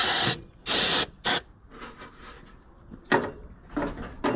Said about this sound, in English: we're just going to spray some ether in there